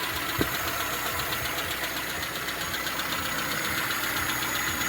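A carburetted engine idles steadily with the choke on, its newly rebuilt carburettor fitted with fresh membranes and reworked diffusers, giving a continuous close mechanical hum with a faint knocking texture and no voices.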